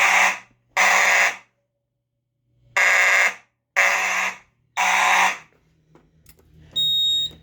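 A Simplex 4903-9217 mechanical fire alarm horn strobe blares in loud, harsh buzzing blasts, five long pulses with gaps between, followed by a quieter tail and another blast at the end.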